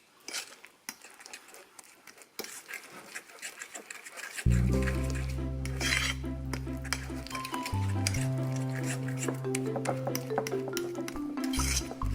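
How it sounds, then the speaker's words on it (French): A spoon stirs a tablespoon of seeds into a mixture, with scattered metallic clinks and scrapes against the bowl, later joined by a steady humming tone underneath. "Et je mélange."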